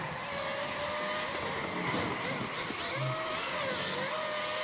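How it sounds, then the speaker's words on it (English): An open-wheel race car with an old-school Formula 1 engine sound in the iRacing Arcade video game, a loud high-pitched whining engine note that holds steady, drops briefly and climbs again through gear changes. "They went for old school Formula 1 sounds, and it's all the better for it."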